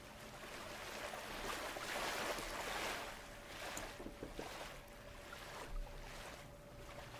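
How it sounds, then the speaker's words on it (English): Soft ocean waves as an ambient sound effect, a steady broadband wash that swells and eases gently across several seconds with faint splashy ticks, no voices. "Ocean sea soft waves."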